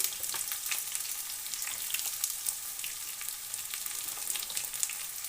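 Carrots fry in a pan with pointed gourd and other mixed vegetables for a vegetarian curry, giving a constant crackling sizzle with light scraping as the pan is stirred, close and steady, with no talking.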